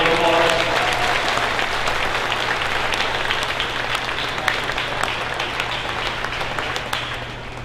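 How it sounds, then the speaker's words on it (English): Audience applause at a 4-H tenure and awards ceremony: a dense, steady wash of many hands clapping, loud and sustained throughout, easing slightly toward the end. "Can we give them another round of applause?"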